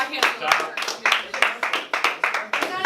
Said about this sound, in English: should we just give Mr. Ward a round of applause for his great